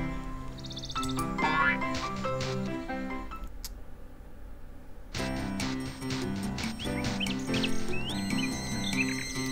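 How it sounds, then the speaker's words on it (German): A little bird in a Snoopy children's video game chirps in short bright tweets over layered, tonal game music and sound effects, fairly loud, with a brief quieter pause midway. "Ein Vögelchen."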